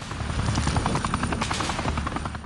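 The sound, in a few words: helicopters approaching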